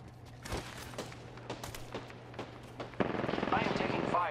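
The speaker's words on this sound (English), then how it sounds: "I am taking fire, friends." Gunfire aimed at the player in Apex Legends, a series of separate sharp shots at roughly half-second intervals, then a denser rattling burst near the end, with voices talking over it.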